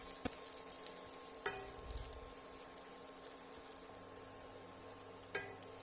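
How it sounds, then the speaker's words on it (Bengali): Ginger garlic paste frying with browned onions in a pan for a chicken dish, a quiet steady sizzle with a few sharp clinks of a spoon against the pan. "আদা রসুন ভাজা হয়ে গেলে"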